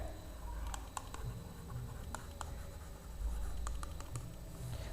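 Pen scratching on paper while writing out a Class 10 maths problem on a cylinder's height and diameter, a quiet series of short irregular taps and strokes over steady background hum, no voice.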